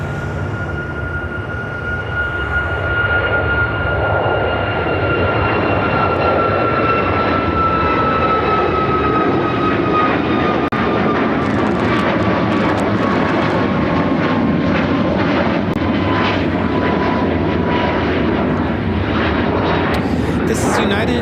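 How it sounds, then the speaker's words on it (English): A United Airlines Boeing 737 MAX 8 departing O'Hare roars on its takeoff run, loud broadband jet thrust with a falling whine that builds and holds, while people talk faintly underneath. "This is United Airlines 1830 taking off to Washington Dulles on the MAX 8."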